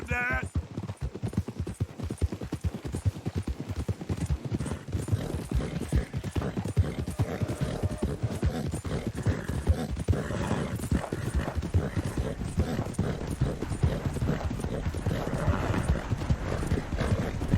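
Horse hooves galloping in Red Dead Redemption 2 during a race, a fast, steady, loud drumming rhythm throughout, with a voice speaking over it.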